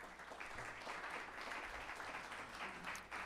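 Audience applause at an evening concert of traditional Armenian music, a steady wash of many hands clapping at moderate distance, continuous and even throughout with no voices standing out.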